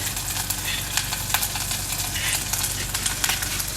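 Chilli thecha fries and splutters in a pan over a low gas flame, a loud, steady sizzle with frequent crackling pops close by, running without pause.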